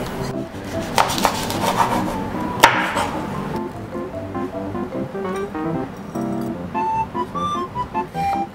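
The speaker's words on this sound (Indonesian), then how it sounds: "Sekarang kita mau potong cabai merahnya." Red chili peppers are chopped with a knife on a cutting board, a quick run of sharp taps at first, then slower, irregular knocks, close and clear with no talking.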